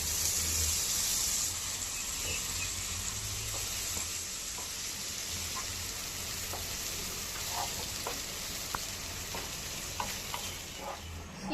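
Onions and a spice paste frying in a pan, a continuous moderate sizzle with occasional soft clicks and scrapes of stirring, no voices over it.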